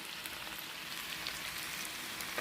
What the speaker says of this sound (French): j'ai décidé d'y rajouter mes oignons et l'ail